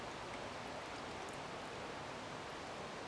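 Water drains steadily from a cotton rag paper pulp mould in a paper museum workshop, a soft continuous trickling hiss with no other sounds.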